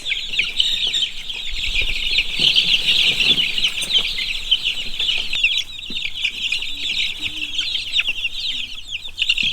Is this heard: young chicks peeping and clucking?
yes